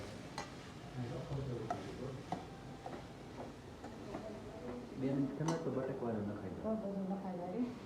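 Spices roast in a pan while a spoon stirs them, giving soft sizzling with light scraping and ticking strokes, as someone speaks throughout.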